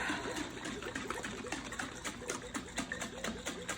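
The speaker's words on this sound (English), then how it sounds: "Instead of whisking, I just shake it up." A closed container of Banyuls vinaigrette is shaken hard to emulsify, giving a close, rapid, rhythmic sloshing rattle that stays fairly even throughout.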